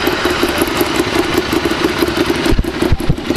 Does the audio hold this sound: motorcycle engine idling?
yes